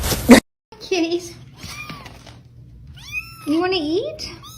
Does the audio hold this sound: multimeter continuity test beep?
no